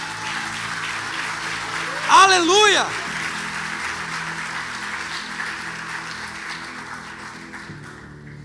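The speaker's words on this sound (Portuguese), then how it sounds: "Aplauda Jesus." A church congregation claps in a sustained patter while a loud voice shouts over it briefly near the start; the applause then continues more softly beneath other sound.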